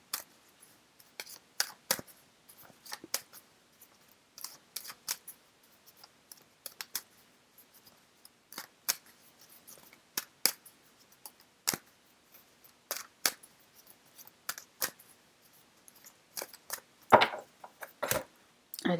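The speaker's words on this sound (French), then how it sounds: "Donc, vous mélangez vos cartes." Golden Universal Tarot cards being shuffled by hand, heard as sparse, quiet rustles and crisp snaps in irregular bursts, with louder slaps near the end and no voices.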